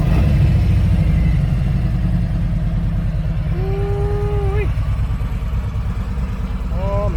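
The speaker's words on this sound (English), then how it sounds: "Boy, listen to that Harley." Harley-Davidson motorcycle fitted with a Feuling vented oil cap idling up close, a loud, lumpy, rhythmic potato-like thump that holds steady, with a brief whistle-like tone over it near the end.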